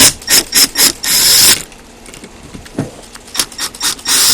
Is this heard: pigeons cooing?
no